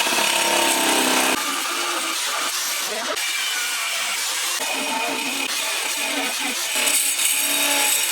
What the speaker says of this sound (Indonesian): cara memotong pipa ini dengan menggunakan mesin yang kita modifikasi menjadi gerinda